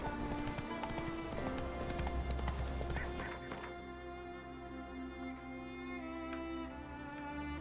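Roach, a horse in The Witcher 3 video game, with rapid hoofbeats over game music for the first few seconds, then fading as sustained music tones carry on alone.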